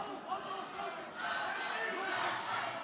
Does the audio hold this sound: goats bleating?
no